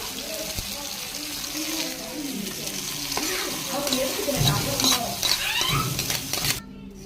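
Coconut paste and spices tipped into a pan of mushroom kurma, with wet plops, stirring and a soft sizzle, pots and utensils clinking nearby, ending abruptly.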